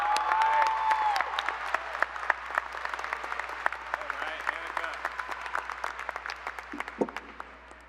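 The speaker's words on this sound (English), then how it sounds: "Please give a big round of applause for our student speaker," A high school graduation crowd claps for the student speaker, sharp individual claps ringing out in a large hall and gradually thinning toward the end, with a brief murmur of voices early on.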